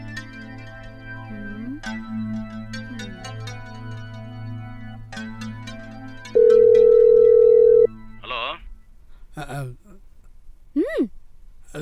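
A mobile phone rings in a Tamil drama scene: a steady electronic tone plays beneath music, then a bright ring sounds loud and close for a second or two.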